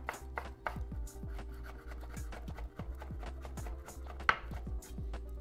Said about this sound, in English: sort of slice them like this, make thin slices